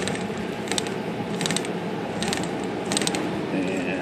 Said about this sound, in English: Empty the rest of this spool out.